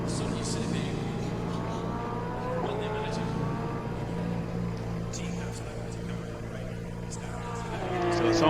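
Steady race car engine drone from Assetto Corsa Competizione at Monza, a continuous loud roar with a few faint tire squeals and revs rising near the end.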